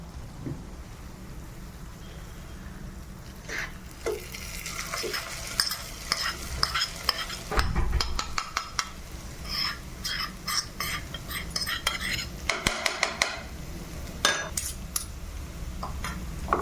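Grated carrot is stirred into a sizzling tempering in a pan, a steady fry under repeated metal scrapes and clinks of a spoon against the pan, louder and busier in the middle, with no talking.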